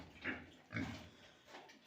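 Three soft, low pig grunts from pigs that have been fed nuts, spaced apart and quiet, with a slightly muffled, breathy quality.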